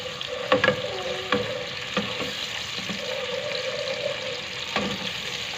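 Finely chopped onions sizzle steadily in hot oil in a pan for chicken jalfrezi, with occasional clicks and knocks of stirring over the constant frying hiss, close and moderate in level.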